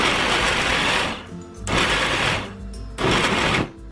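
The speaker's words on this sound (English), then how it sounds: "That's why it's important to use a food processor to do this, because it will give you that texture we are going for." A food processor roughly blends stew ingredients for Nigerian ayamase, whirring in three loud pulsed bursts separated by brief pauses, close and harsh with no voices.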